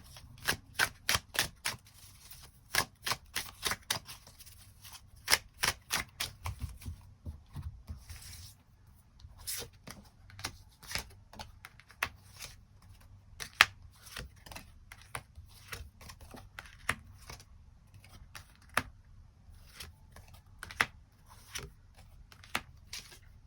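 Tarot cards being shuffled and drawn, a quick run of crisp riffling snaps at first, then scattered soft card flicks and slides, close and fairly quiet with no talking.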